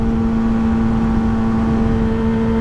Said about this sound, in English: I think it's a Ford truck. Ford F-150.